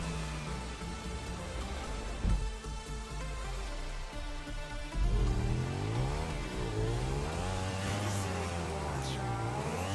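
In GTA 5, a motorcycle engine revs and whines continuously while the pitch swoops up and down as the bike rides a looping custom stunt map. It sounds steady and fairly loud, with game background noise behind it.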